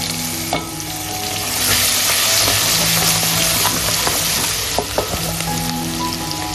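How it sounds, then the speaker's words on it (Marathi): Sliced garlic pieces frying in oil for a dhaba-style spicy cashew curry, a steady close sizzle with a few stirring scrapes, loud and continuous with no talk. "आता हा जो बारीक चिरलेला आपण जो स्लाइस केलेला लसूण आहे ना छोट्या छोट्या पीसमध्ये याला सुद्धा घालूया आणि याला सुद्धा छान प्रकारे तेलामध्ये भाजून घेऊया"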